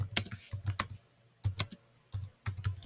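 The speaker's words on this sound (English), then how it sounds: "let me get that actually, type it in" Typing on a computer keyboard: short bursts of close, crisp key clicks in uneven clusters, separated by brief pauses, with no talking.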